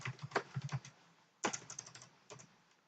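Keys clatter in rapid bursts as code is typed on a computer keyboard, with two quick runs separated by a short pause, close and fairly quiet, no talking.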